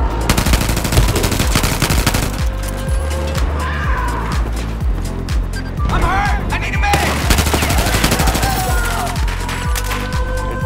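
In Battlefield 4, a vehicle gunner fires rapid machine-gun bursts in steady rhythmic volleys, loud and close, mixed with engine noise and tire skids from the moving vehicle.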